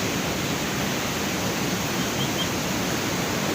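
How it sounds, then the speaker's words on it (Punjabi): Steady, dense hiss of evening rain falling at a canal, a continuous wash of sound with no voices, holding level and close throughout. "ਬਾਰਿਸ਼ ਹੋ ਰਹੀ ਆ"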